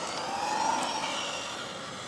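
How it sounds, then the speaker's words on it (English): A steady high-pitched electric motor whine from a Traxxas Ford Fiesta ST Rally RC car on a 2S LiPo battery, buzzing and sustained at close range, holding level with a slight rise before easing off. "you can hear the engine cranking out more RPMs"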